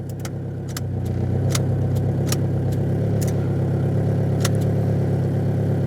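A Mitsubishi Pajero Junior's small engine runs with a steady, buzzy drone, close and fairly loud, while a few sharp clicks and knocks break over it at irregular intervals.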